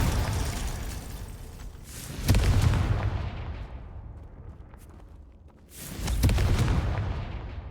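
A Confringo blasting spell in Hogwarts Legacy sets off two heavy booming explosions a few seconds apart, each with a rumbling tail that fades slowly.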